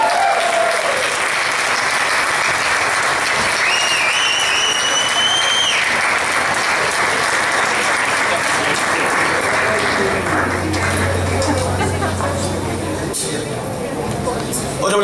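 Sustained audience applause for a musician at a live concert, a dense steady wash of clapping lasting the whole stretch, with faint voices and a few whistles over it.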